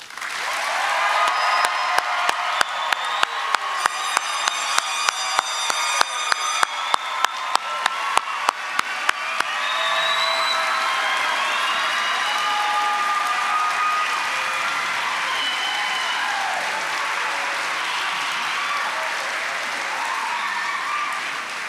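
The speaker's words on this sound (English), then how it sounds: "please join me in applauding the achievements of these graduates" Applause for medical school graduates at a commencement ceremony, a broad sustained wash of clapping from a large crowd with sharp rhythmic claps near the start, continuing steadily without speech for about twenty seconds.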